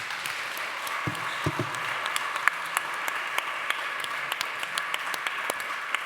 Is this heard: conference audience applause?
yes